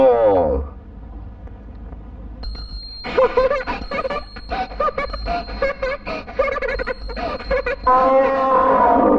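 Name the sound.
imitating an elephant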